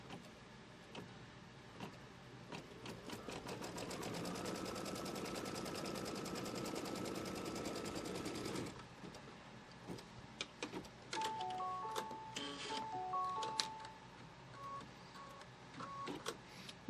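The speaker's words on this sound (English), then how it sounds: "now it's going to do a stitch line from the right over to the left" An embroidery machine runs a tack-down stitch line across hooped fabric, a rapid rhythmic mechanical whirr lasting several seconds, then stopping, followed by scattered clicks and beeps from the machine.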